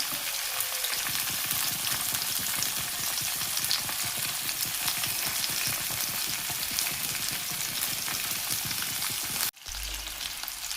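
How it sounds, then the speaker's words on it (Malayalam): Mackerel fries in oil over a medium flame, giving a dense, steady close-up sizzle for about nine seconds before a sudden clunk cuts it short. "ഇനി ഒരു മീഡിയം ഫ്ലെയിമിലിട്ട് വേണം ഇതൊന്ന് വറുത്തെടുക്കാൻ."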